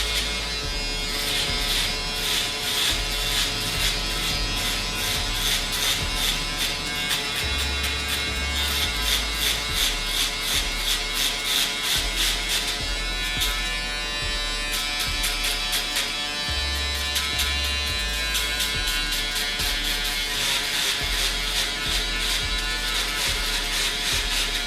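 An Andis Pro-Foil electric foil shaver buzzes steadily and loudly while trimming hair, a dense constant whir that rises and dips slightly as the foil scoops through the hair, close up, with no talking.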